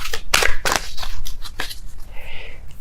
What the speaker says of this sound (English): I'm going to be shuffling until I have a popping card here.